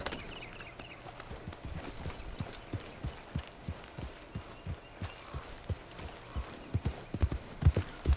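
Horse hooves clip-clopping in Red Dead Redemption 2, a steady run of close, crisp hoof strikes on firm ground that grows a little louder toward the end, with no talking over it.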